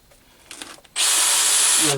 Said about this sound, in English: This would fit into the drill.